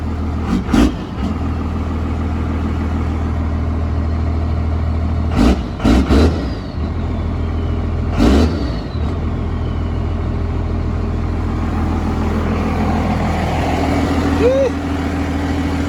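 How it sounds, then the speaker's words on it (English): A straight-piped second-gen 12-valve diesel truck engine idles with a loud, deep, continuous rumble and revs sharply in several short bursts, while people talk over it. "I'm gonna press on the gas."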